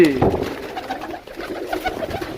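Soft pigeon cooing close by, mixed with faint voices and rustling.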